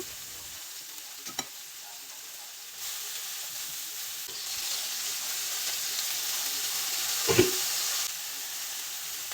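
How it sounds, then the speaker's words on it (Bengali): Broccoli seasoned with black pepper and salt fries in a pan, giving a steady sizzling hiss that swells louder partway through, with a couple of brief clinks of stirring and no voices. "ব্রোকলির মধ্যেও আমি গোলমরিচের গুঁড়ো এবং সল্ট এগুলো দিয়ে আগে মিক্স করে রেখেছি, এখন আমি জাস্ট দিয়ে ভেজে নিব।"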